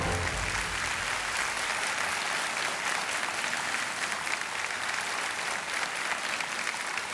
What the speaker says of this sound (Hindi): तालियां बजती हैं इनके लिए